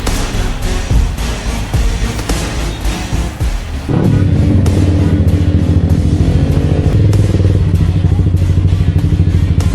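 A motorcycle engine starts with some clatter, then settles into a steady, loud idle close by, running on without pause.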